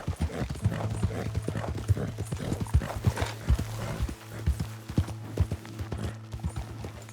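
A horse in the Red Dead Redemption 2 video game clip-clops at a steady walking rhythm, hooves close and distinct, with a low musical drone underneath and a brief whinny.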